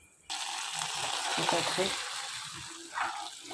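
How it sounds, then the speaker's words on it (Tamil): Cashews fried in ghee and poured into milk pongal set off a sudden loud sizzle that fades gradually, with a second crackling burst near the end as more is added. "இப்போ இந்த நெய்யோடு வந்து முந்திரி பருப்பை பொங்கலில் கொட்டிடலாம்"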